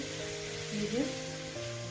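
Potatoes for a fish curry fry in hot oil, a faint steady sizzle heard alongside a low tonal hum and a brief voice in the middle.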